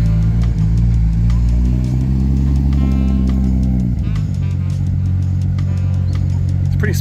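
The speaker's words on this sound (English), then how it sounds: "It's pretty smooth idle for a big power Supra." A high-power Toyota Supra idles at a car meet, a deep, even engine rumble with steady low harmonics that shift pitch slightly midway, while people talk nearby.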